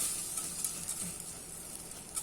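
Four rice-stuffed pigeons are sautéed in a hot pan and stirred, giving a steady, close sizzle with soft scraping throughout and no talking.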